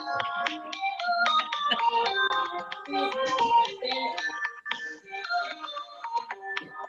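A phone ringtone plays a bright, busy electronic melody during an online class, loud and continuous for several seconds with no talk over it.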